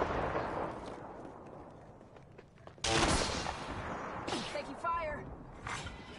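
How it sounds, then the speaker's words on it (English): Gunfire in a PS4 shooter game, a sudden loud burst after a quieter stretch, followed by continuing shots and rumbling battle noise, with a voice speaking over it. "Taking fire."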